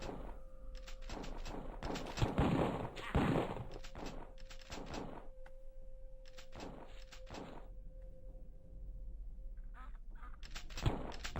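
Ducks in the video game Killing Time quack in repeated bursts, loud and close, with irregular clusters of calls separated by short pauses and a faint steady tone running beneath.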